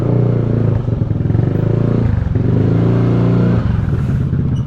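A motorcycle engine runs loud and close, idling with a steady low rumble and rising into revs near a gray gate during a Lalamove delivery pickup, with a slight mechanical clatter.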